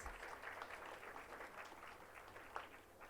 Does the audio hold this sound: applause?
yes